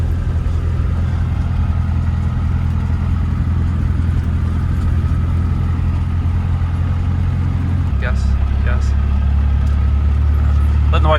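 A manual-transmission car driven by a learner, its steady engine drone loud and close throughout, dropping to a deeper, heavier rumble near the end as the gear or load changes, with faint clatter over the top.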